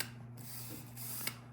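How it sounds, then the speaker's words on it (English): A camera's uncocked shutter mechanism is worked back and forth by a finger, giving faint, steady mechanical ticking and ratcheting with one sharper click near the end, close and quiet with no voices. "just put your fingers in the opening like that and pull it back and forth"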